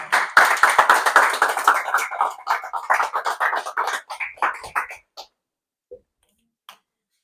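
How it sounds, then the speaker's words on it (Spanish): A church congregation breaks into dense, lively clapping that gradually thins out into scattered claps and a few last isolated slaps, ending in near silence. "Denle un fuerte aplauso al Señor."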